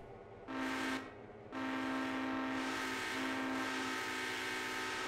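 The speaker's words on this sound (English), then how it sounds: "Can we quill the horn?" Quilled steam whistle on a locomotive in the Railroader video game, two blasts: a short one, then a long sustained wail that slightly shifts in tone, loud and clear with no talk.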